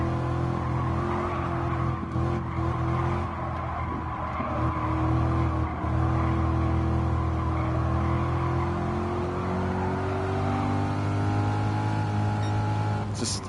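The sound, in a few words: mid-engine Chevy race car driving in Gran Turismo video game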